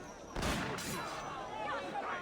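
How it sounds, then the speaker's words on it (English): A sharp gunshot cracks once in Assassin's Creed Revelations, then a second report follows, with talk and muffled game sounds continuing underneath. "They hear the gunshots."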